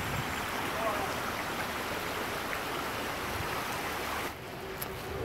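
River water in Jamaica flows in a steady, rushing wash close by, a constant broadband churn that eases slightly near the end.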